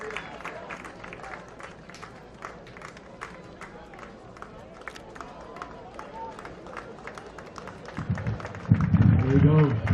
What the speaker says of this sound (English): We need to hear some cheering from the crowd.